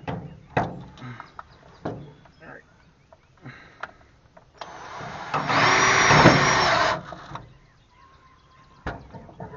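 A power drill drives self-tapping screws during a garden trailer repair. One loud, sustained whining burst sits mid-clip, with scattered knocks and handling clatter before and after.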